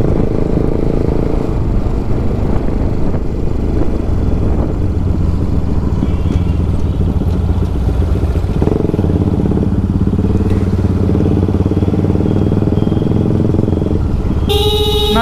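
Motorcycles and other vehicles cross a busy road close by, with steady engine noise throughout, occasional horn toots, and a sharp honk near the end.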